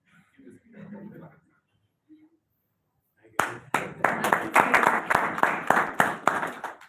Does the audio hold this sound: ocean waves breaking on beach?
no